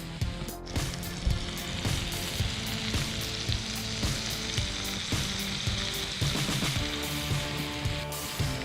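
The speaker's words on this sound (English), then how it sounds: "He uses a grill press to force the heat through." Heavily spiced tiger shark meat sizzles loudly in olive oil over high heat beneath a grill press, a dense, continuous frying hiss broken by steady crackles and pops, close and without voices.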